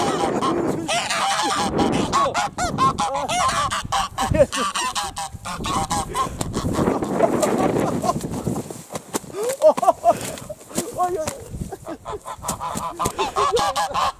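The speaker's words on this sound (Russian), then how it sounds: "Ну, это гусихи. А это гусак." A flock of domestic geese honking loudly and continuously, ganders and females mixed, up close, with people talking over the birds throughout.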